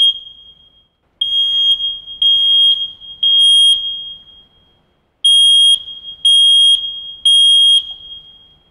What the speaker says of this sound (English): Once we change the battery or change the smoke alarm, we're going to go ahead and test it.